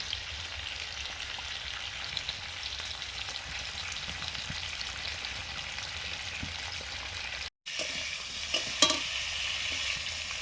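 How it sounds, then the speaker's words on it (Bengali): Fish goes into a pot of boiling curry gravy, a steady close sizzling bubble that runs unbroken, then a brief cut followed by a few light clinks as the simmer continues. "ঝোল ফুটে গেছে, মাছ দিয়ে দিচ্ছি।"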